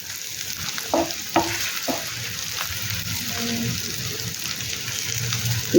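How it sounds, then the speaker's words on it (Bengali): Steady sizzling of peanuts frying in a pan over medium heat, with a few scraping stirs, close and continuous, no voices. "এবার এটাকে মিডিয়াম আঁচ করে এটাকে একটু ভাজা ভাজা করে নেব।"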